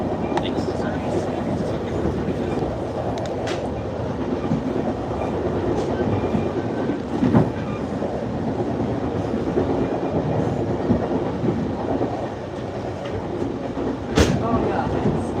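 A Northstar commuter train rolls along the rails toward downtown Minneapolis, heard from inside as a steady rumbling ride with occasional clicks and thumps, with people talking over it.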